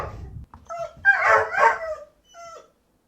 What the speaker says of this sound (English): I emulated the sound of your dead dog, James.